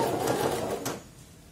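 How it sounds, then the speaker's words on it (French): A sewing machine stitches a skirt seam in one short, steady whirring burst that cuts off abruptly, close and fairly loud. "Et là, je vais pouvoir commencer à coudre."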